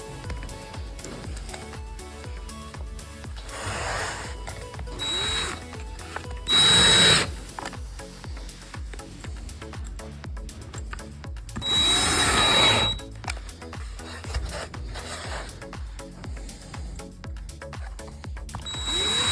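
A screwdriver drives screws through a canvas floater frame, with two short loud bursts of whirring against steady low mechanical handling noise and clicks, close by and without speech.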